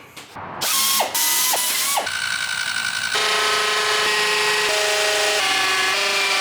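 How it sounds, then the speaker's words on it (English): A right-angle drill attachment whirs and ratchets, with a few quick clicks and a rising whine before a sustained steady grinding hum, drilling fuselage side skins on an RV-10 aircraft. "using this right angle drill attachment and a mirror"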